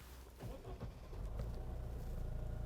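A JAK T9 pickup truck engine starting up quietly: a few soft cranking thumps, then a low, even idle rumble settling in.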